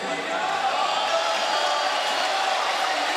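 Steady, dense roar of a large crowd cheering at a Street League skateboarding contest, filling the whole stretch at an even, loud level.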